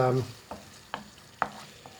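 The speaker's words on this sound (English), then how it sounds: "Give it a stir." Yogurt is stirred into a curry sauce in a pan, three or four distinct scraping strokes spaced about half a second apart over a faint sizzle, with a brief tonal sound at the start.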